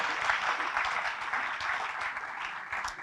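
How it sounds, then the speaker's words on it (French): Sustained audience applause at a regional business awards ceremony in Corrèze, a steady, fairly close wash of clapping with no break throughout. "Vous pouvez l'applaudir une nouvelle fois pendant qu'ils descendent de scène."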